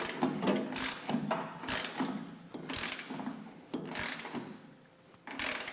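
Bolts being tightened back onto the glide plate wheels of a MUSKOX 26-84 snowblower, a run of close, irregular ratcheting clicks and metallic tool bursts with short pauses between.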